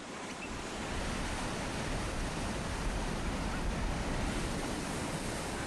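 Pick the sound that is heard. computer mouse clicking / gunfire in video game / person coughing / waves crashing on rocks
waves crashing on rocks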